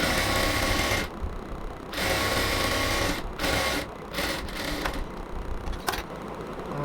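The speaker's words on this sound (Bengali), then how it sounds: "এই ফিতাটাকে চারপাশ থেকে আমি সেলাই করে নিচ্ছি।" A sewing machine stitches ribbon around a baby frock, running in fast close bursts of whirring needle clatter separated by short pauses.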